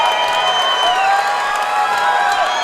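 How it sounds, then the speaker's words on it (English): Crowd at a Fury 40 fight event roaring and cheering wildly for the hometown fighter, a dense sustained wash of shouts, whoops and whistles with no letup. "And the crowd goes wild for the hometown boy."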